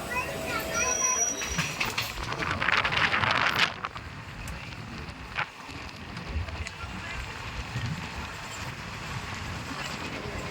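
Steady rumble of a moving passenger train heading to Dwarka, India, with rattling and wind noise inside the carriage, a burst of louder clatter early on, continuous throughout.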